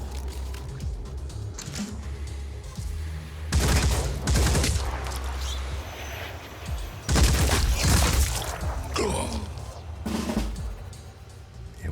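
Battle gunfire in Phoenix Point, including sniper rifle shots: heavy booming volleys crack out in clusters over a constant rumbling background, with quieter pops and clatter between the loud bursts.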